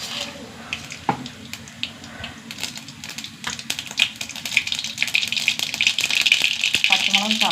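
Mustard seeds crackle and spit in hot oil while beetroot stir-fry is being started, a dense, steady sizzle with scattered sharp pops that grows busier toward the end, with someone speaking over it at times.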